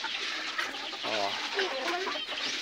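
A game fowl breeder hen clucks a few times in her pen, close by, over a steady outdoor hiss of background noise.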